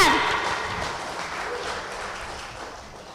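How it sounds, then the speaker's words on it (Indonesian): An audience at a Betawi community gathering claps briefly, a dense burst of applause that fades steadily over a few seconds, with faint voices beneath it. "Tepuk tangan"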